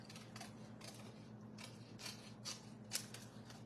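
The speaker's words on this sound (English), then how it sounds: "now what I'm going to do is take and fussy cut these two flowers out" Scissors snipping paper flowers in a fussy-cut papercraft job, a series of soft, crisp cuts every half second or so over a low steady hum, close by with no talking.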